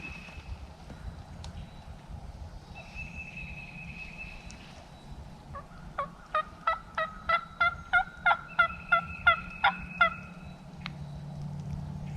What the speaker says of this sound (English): I heard this hen close by a tree yelping